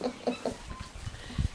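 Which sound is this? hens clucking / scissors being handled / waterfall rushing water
hens clucking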